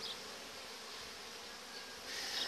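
Honey bees hum around an open hive in a Romanian apiary during a brood check, a continuous close buzzing drone that swells louder near the end, with no voices.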